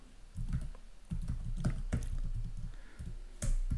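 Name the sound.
typing an IP address on a computer keyboard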